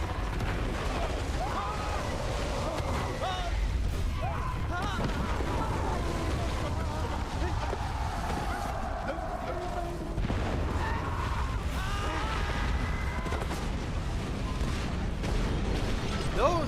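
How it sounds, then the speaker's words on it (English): Big cannons fire artillery in the World War I video game Valiant Hearts, a dense ongoing barrage of booms and rumbling blasts mixed with game effects, loud and continuous throughout. "Those are some big cannons."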